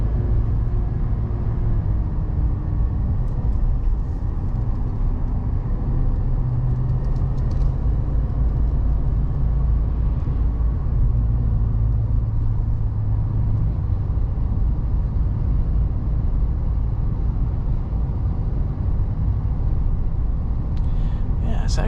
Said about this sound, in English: it does give you a subtle nice grumble from the V8 too,